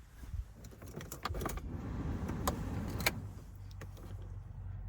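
Keys jingle in the ignition of a 2011 Opel Vivaro passenger van with a 2.0 engine rated at 115 hp. The engine then catches and settles into a low, steady idle, heard close up.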